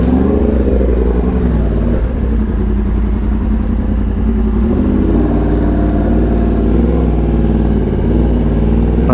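A Yamaha R1M with a crossplane four-cylinder engine roars loudly while being ridden, a dense, throbbing mid-range drone with shifts in pitch as the throttle changes, close and continuous with no talking.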